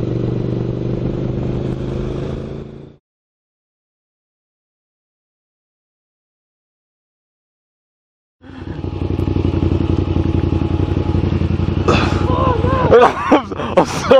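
A motorcycle with a fiendishly loud exhaust roars close by in two bursts separated by several seconds of silence, and the second burst ends with clattering and a startled voice.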